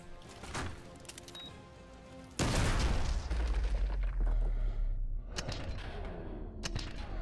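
Gunfire in the Modern Warfare 2 Remastered campaign, a heavy boom and rumble erupting after a quieter stretch, followed by a couple of sharp shots over lingering low noise.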